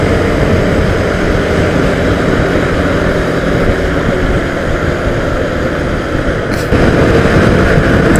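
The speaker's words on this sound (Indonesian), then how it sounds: "Ini kondisinya berisik banget ya, anginnya." Strong wind buffets a microphone outdoors while travelling, producing a loud, continuous rumbling roar that fills the whole stretch and swells slightly louder near the end.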